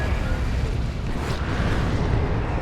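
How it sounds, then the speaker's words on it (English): Rocket-run airstrike explosions from Warhammer 40,000: Dawn of War 2 in an Imperial Guard versus Tyranids battle, a rolling wall of booming blasts and rumble that stays loud and dense the whole time. "And a rocket run. That is a nasty rocket run."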